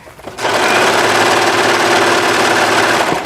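A serger overlocking the edge of a fabric seam starts up and runs at a steady fast whirring hum, loud and continuous, with no talk.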